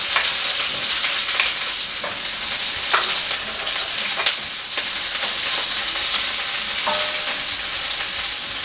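Garlic and onion sauté in a hot pan with a loud, constant sizzle and spatter, broken by repeated scrapes and clinks of a spatula stirring close by.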